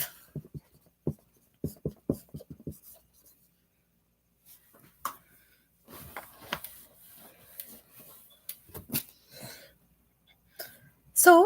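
Hand drawing on paper, with quiet scratchy pencil or pen strokes in short bursts, some rhythmic scribbling and pauses, close and faint, with occasional breaths.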